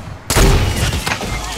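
A rocket blows up in a video game, a sudden loud, close blast that cuts in after a quiet start and leaves a long rumbling roar.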